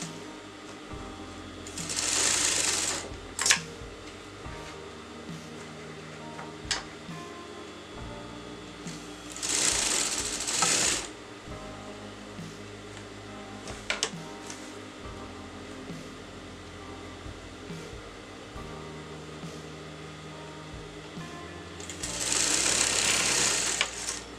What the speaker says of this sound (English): So lay the fabric flat like this, and I'm going to sew this together.